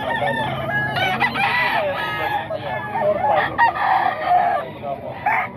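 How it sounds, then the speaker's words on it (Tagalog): A rooster crows loudly and close by, its drawn-out call repeating over a busy background of other fowl clucking and faint voices. "Manok ni Boss Mac"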